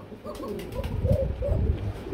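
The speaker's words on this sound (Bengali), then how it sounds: "নটটা ডাকতেছে দেখতেই পাচ্ছেন" A male exhibition Mondain pigeon coos up close, giving several low, throaty rolling coos in quick succession against a quiet background.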